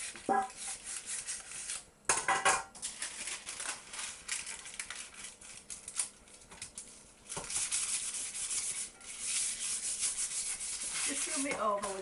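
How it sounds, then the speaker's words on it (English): Greased cake tins lined with baking parchment circles being rubbed over with more grease for a Victoria sandwich, giving close, continuous soft scrubbing and rubbing with brief clatters of the tin. "Just rub it over with a little bit more grease just to make it stick."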